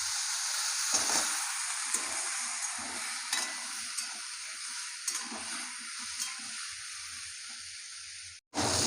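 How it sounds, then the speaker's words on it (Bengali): Potatoes fry in oil with a little turmeric in a wok, giving a continuous, fairly loud sizzle with occasional soft taps and stirring sounds. It breaks off abruptly near the end. "আলুগুলো ভেজে নেবো। তেল দিয়ে দেবো কড়াইয়ে"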